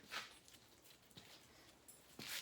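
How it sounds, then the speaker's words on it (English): A dog makes a few faint, brief sounds, separated by pauses, against quiet background noise. "Silly dog."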